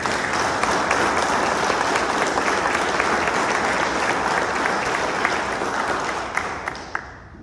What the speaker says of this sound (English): I'd just like everyone to give them a round of applause.